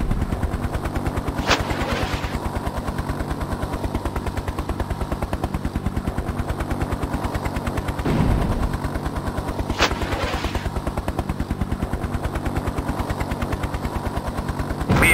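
A helicopter turret gun firing in the video game Hind, heard as a loud, continuous rapid stream of gunfire over a steady droning rotor, with a couple of heavier thumps.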